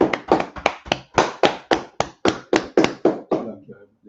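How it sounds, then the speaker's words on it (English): A congregation at a Harlem church service claps in unison, about fourteen sharp, evenly spaced claps in a steady rhythm, close and clear, ending in a brief trailing sound. "Clap it up."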